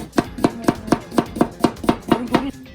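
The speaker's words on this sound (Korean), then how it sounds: "눈앞에서 이렇게 회 써는 거 처음 보는데 진짜 맛있겠더라고요" A knife slices raw fish, flounder or mullet, into sashimi on a cutting board at an island seafood restaurant, about ten crisp evenly spaced chops at close range, loud and without talk.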